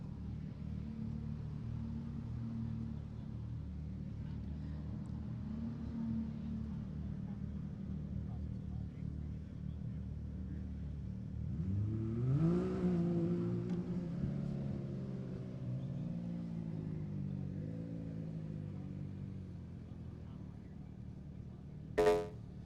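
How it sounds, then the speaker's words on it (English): A Can-Am off-road racer at an Ultra4 race starts off the line, its engine rumbling low and steady in the distance, then revving and rising, while a commentator talks throughout and a short sharp sound ends it. "So off the line first in his Can-Am is Jamie McCoy"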